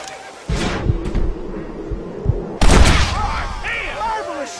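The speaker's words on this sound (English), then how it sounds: "Marvelous shot, dear boy." Gunfire in a Red Dead Redemption shootout, with two sharp loud shots, the second followed by a ringing tail, set among game sounds and voices.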